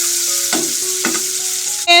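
Cooking oil goes into a hot pan for a winter vegetable dish and sizzles in a steady, close hiss, with brief stirring scrapes partway through.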